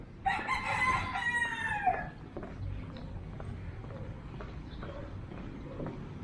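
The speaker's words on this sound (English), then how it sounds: "And he's carrying a chicken." A chicken being carried along a walking path gives a loud, strained crowing call that lasts about two seconds, then goes quiet beneath steady outdoor background noise.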